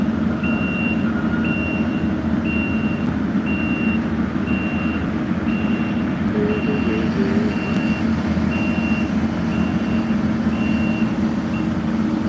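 Steady, evenly spaced reversing beeps from a truck repeat about once per second over a continuous low engine rumble, moderately close.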